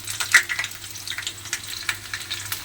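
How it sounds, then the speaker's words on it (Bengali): Diced potatoes sizzling in hot oil in a pan, a steady close frying crackle with occasional stirring scrapes and no talking. "আলুগুলো আমি তেলের মধ্যে দিয়ে দিলাম"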